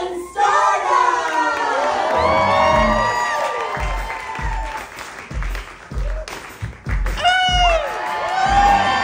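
A theater audience at a drag musical applauds and cheers loudly for a newly introduced drag performer. The clapping and whooping is dense and sustained, with scattered shouts, rising again in a strong burst near the end.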